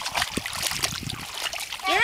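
Feet stamp and splash in muddy water as a channel of water is made for mud pies outdoors; soft squelching runs under children's voices, ending in a louder splash.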